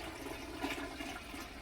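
Water pours from a kettle into a pressure canner pot, a steady rushing, splashing stream filling the metal pot, fairly faint and uninterrupted, with no speech.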